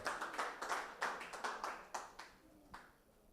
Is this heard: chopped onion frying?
no